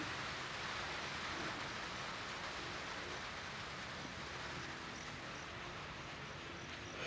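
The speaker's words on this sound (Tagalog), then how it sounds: "lumalakas po yung ulan" Heavy rain pours steadily on a kitchen roof, a dense, even hiss of drumming water holding constant throughout with no voices.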